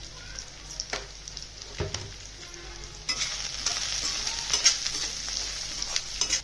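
Chopped onion and salt frying and being stirred in a pan for cucumber poha, a steady close sizzle with scraping stirs that swells louder partway through, no talking.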